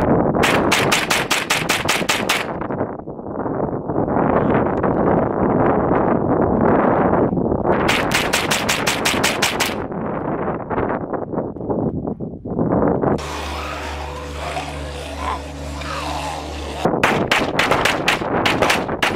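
Rapid bursts of gunshots from a Ruger PC Carbine 9mm crack out in strings in the desert, separated by gusts of heavy wind buffeting the microphone.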